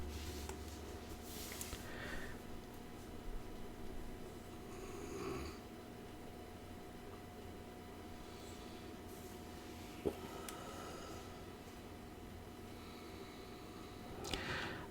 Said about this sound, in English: my little brother is sleeping right now. Can you hear him snoring in the background?